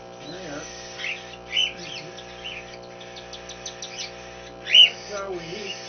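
Pet cockatiels give a few short, bright chirps at scattered moments while being hand fed indoors, with quiet murmuring voice sounds running underneath.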